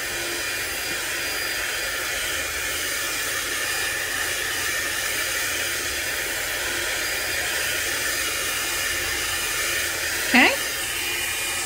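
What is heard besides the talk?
blow dryer on heat setting drying a craft tag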